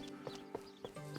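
Horse hooves clip-clopping for a horse and carriage in the Medieval Dynasty video game, four evenly spaced soft hoof strikes over a faint tonal background hum.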